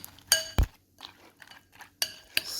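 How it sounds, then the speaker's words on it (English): A spoon clinks and scrapes a few times against a bowl while barbecue sauce with honey and chili flakes is mixed, in close, brief taps with quiet gaps. "Give it a good mix."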